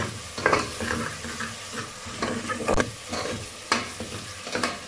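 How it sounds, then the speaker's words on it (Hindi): Powdered spices frying with tomatoes in a pan for Kashmiri dal, a steady close sizzle broken by repeated scraping and stirring strokes of a spoon against the pan. "अब इसमें पाउडर मसाले डालेंगे। एक मिनट भून लेंगे।"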